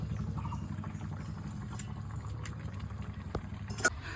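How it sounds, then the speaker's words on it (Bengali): Tilapia fish curry broth with potato and eggplant boils steadily in a pot, a continuous close bubbling and gurgling with a brief sharper pop near the end. "ঝোলটা ফুটে গেছে, এবার মাছগুলো দিয়ে দিচ্ছি।"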